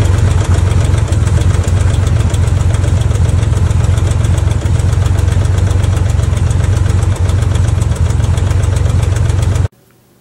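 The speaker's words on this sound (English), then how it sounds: "I noticed that lifter noise was coming from the driver's side of the motor." Corvair flat-six engine idling with a ticking lifter noise from the driver's side and a vibrating throttle return spring, a loud, steady, continuous rumble with rapid regular ticking throughout, cutting off abruptly at the end.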